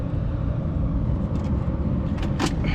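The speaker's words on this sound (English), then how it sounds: "it's got no belt, so I gotta drive it up onto the trailer pretty quick here" Nissan 240 with no belt driven up onto a trailer, a steady close engine rumble running throughout with a couple of brief higher-pitched squeaks or clanks near the end.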